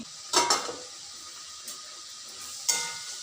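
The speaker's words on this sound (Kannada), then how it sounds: "ಕುದೀತಾ ಇದೆ, ಅದಕ್ಕೆ ಅನ್ನ ಮಿಕ್ಸ್ ಮಾಡ್ತಾ ಇದ್ದೀನಿ." Rice being stirred into a pot of boiling salted water for bisibele bath, with a few short scraping clatters of a spoon against the pot spaced over a few seconds and a quiet background between them.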